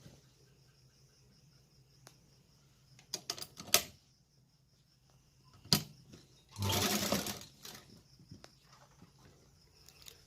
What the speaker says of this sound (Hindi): पहले इस पे ही सिलाई लगाएंगे हाफ इंच मार्जिंग रखते हुए